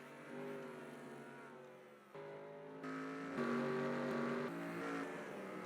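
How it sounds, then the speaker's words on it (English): Race cars pitting during a race at The Glen, their engines droning in overlapping, steady pitched tones that step up in loudness as more cars arrive, with no talk. "these cars are now pitting"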